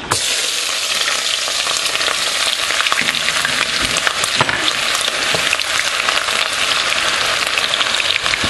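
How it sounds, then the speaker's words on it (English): Onion and fresh tomato fry in a hot pan for a fish stew, giving a loud, dense, continuous sizzle with crackling and stirring scrapes throughout, close up and with no voices. "When it's hot and ready, you put in your onion to crisp, then you put in the fresh tomato."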